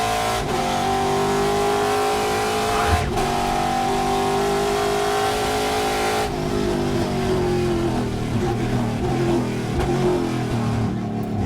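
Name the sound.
Trans Am race car engine, onboard at Laguna Seca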